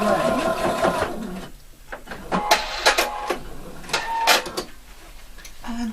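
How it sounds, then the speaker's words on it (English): A sewing machine stitches a shoulder seam with 1 cm seam allowance, a loud rattling run at the start, then softer bursts and clicks, with talk mixed in. "I'm stitching this all the way"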